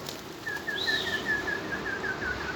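A tumbler pigeon flies high above a rooftop, heard as a thin, clear whistling tone in a long series of short repeated notes, fairly faint over steady background noise.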